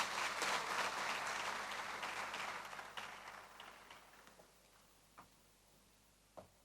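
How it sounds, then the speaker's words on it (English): Audience applause after a trade minister's closing remarks at a conference session, a dense wash of clapping that gradually thins and fades, ending with a couple of isolated late claps. "A bigger round of applause."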